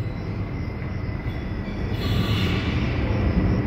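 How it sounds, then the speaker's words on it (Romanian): A train arrives at an Istanbul station with a loud, continuous rumble of rolling wheels and carriages that swells as it draws nearer, with a faint squeal on top. "Ne vine și trenul."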